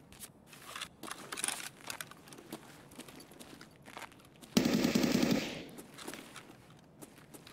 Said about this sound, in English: Shooting inside store, right side,